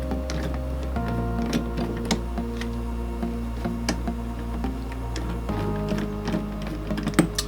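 Screws being driven down on a GPU water block, heard as small ticking and tapping clicks over a steady low hum, several sharper taps spaced irregularly, close and fairly quiet, with no talk.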